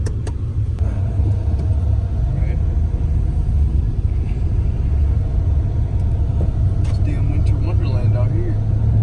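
A car with an OBD2 performance chip drives along a snowy road, its engine and tire rumble a loud, constant drone close inside the cabin, with a voice talking over it.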